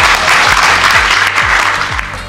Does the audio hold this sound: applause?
yes